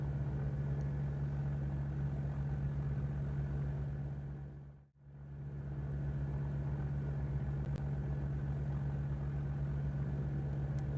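Simulated Cessna 172S JT-A diesel engine running steadily in Microsoft Flight Simulator 2020, a loud continuous low drone that dips briefly to near silence midway before resuming at the same level.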